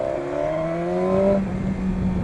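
A 2015 BMW S1000XR motorcycle exhaust rumbles close by, its tone rising briefly as it revs, then settling into a steady idle drone with no talk over it.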